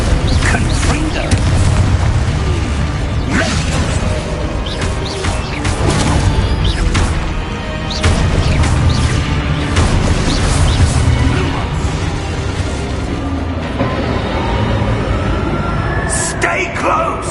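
Confringo blasting spells burst in Hogwarts Legacy gameplay, with repeated heavy booming explosions and crashes rolling continuously and loudly under voices and a dense game soundscape.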